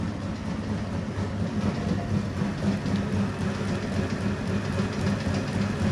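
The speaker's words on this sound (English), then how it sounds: "1930s Bennett twin 450 gas pump comes to life." A 1930s Bennett twin 450 gas pump engine, a barn find with worn, shredding belts, runs with a steady, rumbling, rhythmic clatter that holds even throughout.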